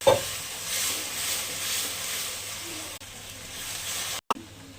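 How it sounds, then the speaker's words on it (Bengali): Chopped onion with dried red chilli frying in hot oil for an egg curry gives a steady, close sizzle, with a stirring scrape at the start and a short break near the end. "পেঁয়াজ কুচি রেখেছিলাম দিয়ে দিলাম। ভালো করে ভেজে নেবো।"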